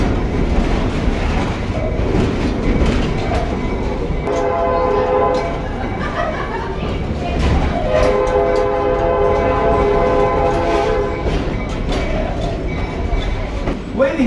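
The Stone Mountain Park railroad train rolls around the mountain in Georgia, its engine rumbling continuously while the horn sounds in several sustained blasts, heard close and loud throughout.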